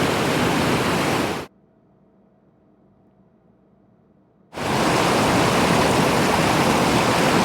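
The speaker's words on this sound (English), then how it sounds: "I'm a little closer to the waterfall here" Waterfall in old-growth Washington forest, a loud steady broadband roar of falling water up close, cutting out to near silence for about three seconds before the rushing resumes at full strength.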